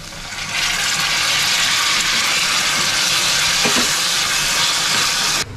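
Tomatoes frying in hot oil with onion and garlic, a loud, continuous sizzle that starts abruptly, holds steady for several seconds, then cuts off.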